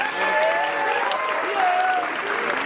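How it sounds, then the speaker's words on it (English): A comedy show audience claps steadily for a few seconds, a dense wash of hands from a full room with no single voice standing out. "Give yourselves a big round of applause for being here."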